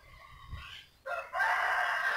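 Backyard chickens kept in a home vegetable garden cluck softly, then a rooster lets out a loud, close crow that carries on to the end, with no talk.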